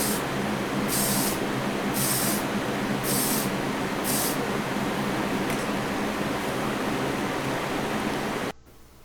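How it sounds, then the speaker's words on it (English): Spray paint hisses steadily as a dark green metallic pearl base coat goes onto a diecast Gran Torino drag car model, with about five sharp, evenly spaced bursts standing out over the hiss before it cuts off abruptly. "Here we've got the base coat going on."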